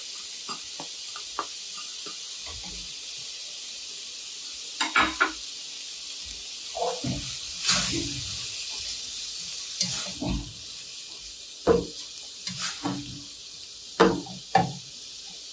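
Diced pre-cooked medium carrot going into a sizzling pan, giving a soft steady frying hiss with scattered clacks and stirring knocks at a moderate distance.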